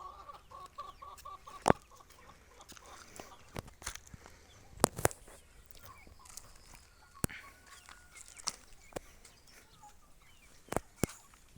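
Chickens cluck quietly across a faint outdoor scene, with scattered sharp clicks and taps throughout and no voices.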